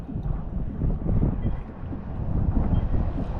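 Steady wind rushing and buffeting against the microphone out on open water, with a constant low rumble underneath and no talking.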